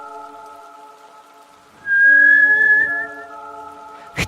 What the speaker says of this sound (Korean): 휘파람 소리.